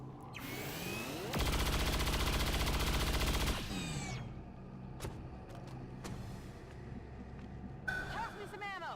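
Sustained automatic gunfire in XCOM 2 War of the Chosen during a stronghold assault, a dense, loud rattling burst lasting about two seconds, followed by scattered mechanical clicks and game sounds.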